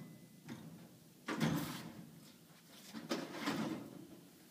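A metal filing cabinet drawer being pulled out in two firm sliding pulls, each a short rumbling scrape with clunks, close and fairly quiet, with no talking.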